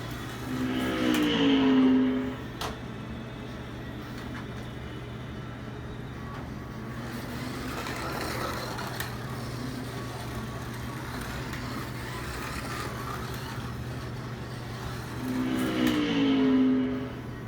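A metal-bodied Scalextric Batmobile slot car from The Batman, drifting around a slot track, gives a steady electric motor whine with a constant hum, swelling louder as it passes close near the start and end.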